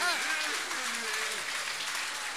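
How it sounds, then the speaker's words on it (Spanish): Audience applause for performers on stage at a live comedy show, a steady broadband wash of clapping throughout with a voice talking over it. "un aplauso chingón, un aplauso."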